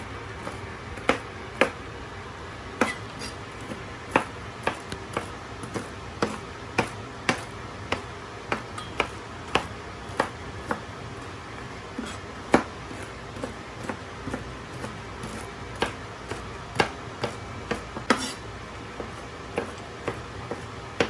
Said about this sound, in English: But you chop your pecans up